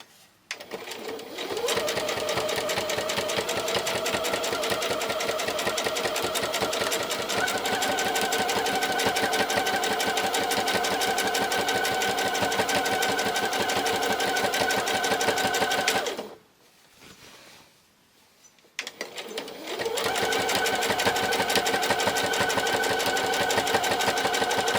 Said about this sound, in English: now I'm just top stitching all the way around the edge, and that will just give it a nice sharp finish